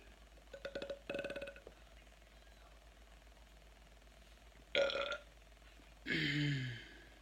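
Someone eating a crunchy salad lets out a series of burps. First comes a quick run of short, close croaks, then after a pause a loud, brief belch and a longer, drawn-out one.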